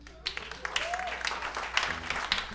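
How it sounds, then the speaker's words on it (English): Comedy show audience in a theater applauds on cue, a moderate, scattered patter of clapping with a few louder individual claps, and voices talking over it. "Give yourselves a round of applause."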